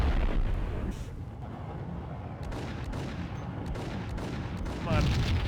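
A grenade blast in the shooter game Max Payne, a dull, rumbling burst with crackling debris that fades into gunfire-like pops, then another loud burst near the end.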